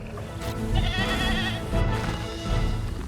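Goat bleating in the Jurassic World Evolution 3 dinosaur park game, a few loud wavering bleats close by, one after another over about three seconds, with no talk.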